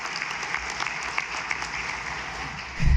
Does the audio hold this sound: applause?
yes